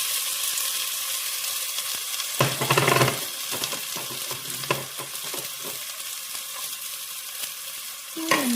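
Crushed garlic and onion frying toward golden brown for rasam: a close, even sizzle with bursts of stirring and scraping against the pan, plus a louder clatter near the start and again at the end.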